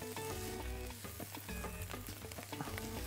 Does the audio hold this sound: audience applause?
no